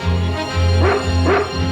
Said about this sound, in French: C'est mon chien, Consigne.